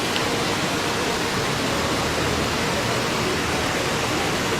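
The Saraswati river roars near Bhim Pul in Mana village, a steady, loud, full-bodied rush of fast-flowing water that never lets up.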